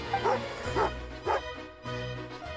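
Tagarin, a puppy in a video game, lets out a quick series of four or five sharp, high yipping barks that sound close and fairly loud, with short gaps between them.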